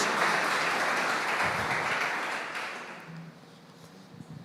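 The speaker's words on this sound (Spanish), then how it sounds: "Dale un aplauso al Señor" A church congregation applauds in a broad, dense wash of clapping that is loud at first and then gradually fades over several seconds, leaving a quieter room with a faint voice near the end.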